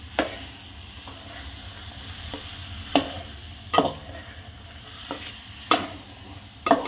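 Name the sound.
stirring vegetables in a pan for veg pulao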